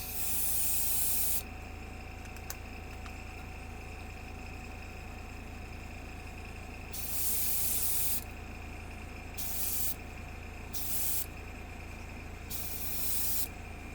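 A spray can applies paint to a model railway layout in several separate hissing bursts, each lasting about one to two seconds, over a steady low background hum.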